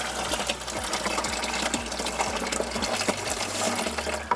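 Water with eggplant seed debris being poured off from a container, a steady close splashing pour with a low mechanical hum running underneath throughout.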